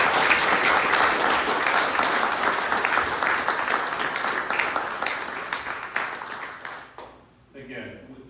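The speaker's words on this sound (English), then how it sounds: "Let's give our candidates a round of applause." A room of people applauding candidates for magistrate and circuit court at a public forum, steady full clapping that gradually thins and fades, ending with a voice speaking over the last scattered claps.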